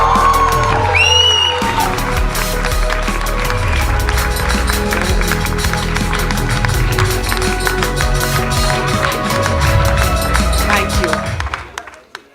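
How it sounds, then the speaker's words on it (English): An audience in a hall breaks into loud, sustained applause with dense, steady clapping and some cheering, holding strong for about ten seconds before fading out. "I want to hear the hall burst with applause"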